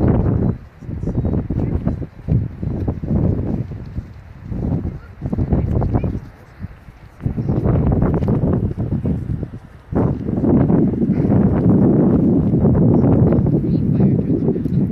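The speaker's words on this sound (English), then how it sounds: "it is a very windy day, especially up here in Barrigada Heights" Strong, blustery wind roars across the microphone at a fire site in Barrigada Heights, coming in loud sustained gusts with brief lulls; no speech is heard.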